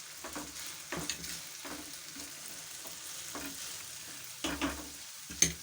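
Chicken paratha filling of chopped chicken with green chillies and coriander frying in a pan, a soft continuous sizzle broken by several scraping stirs of a spoon at irregular intervals, close and fairly quiet with no talk.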